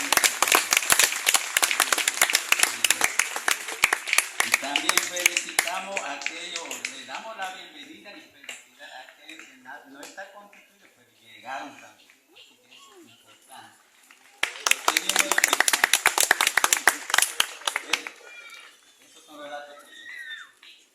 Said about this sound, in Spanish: Así que vamos a darle fuerte aplauso